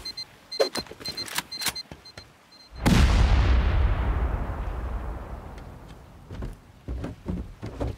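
Heavy C4 explosion during a base raid in a survival video game, a single loud boom at about three seconds with a long rumbling decay, preceded by scattered small clicks and impacts.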